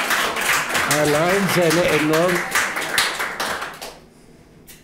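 Audience applause in a German football talk-show lounge about the Bundesliga. The claps rattle steadily beneath someone speaking, then fade into near quiet at the end.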